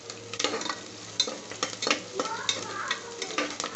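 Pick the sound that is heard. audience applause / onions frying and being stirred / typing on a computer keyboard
onions frying and being stirred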